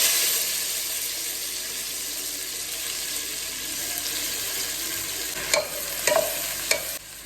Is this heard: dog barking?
no